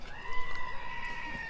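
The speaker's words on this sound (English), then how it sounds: "and then it's the goat screaming." A goat lets out a short, nasal scream that sounds thin and a little distant, as if played back from a phone speaker.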